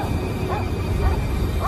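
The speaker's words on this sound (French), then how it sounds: "son chien s'est mis à aboyer" A dog barks in short yips and whimpering bursts, close and fairly loud, at night in Bucks County.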